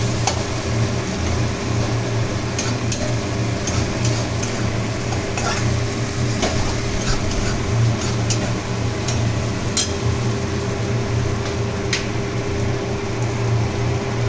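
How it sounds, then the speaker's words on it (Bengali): Spices and chili powder stir-fried in hot oil, giving a steady, loud sizzle and crackle throughout with faint scraping stirs, no voices. "লঙ্কার গুঁড়ো অল্প একটু করে দিয়ে ওটাকে কষাতে থাকবেন"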